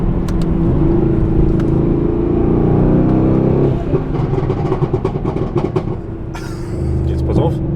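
A Stage 2 tuned Mercedes C63s AMG with its exhaust flap open gives a loud, deep engine rumble under a voice, then breaks into a run of sharp pops and bursts.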